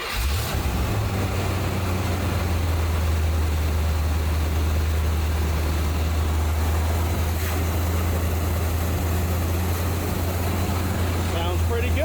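A 1980 Chevrolet Corvette C3 that has sat unused for about a year runs after starting, its engine holding a steady, loud low rumble without pause for twelve seconds.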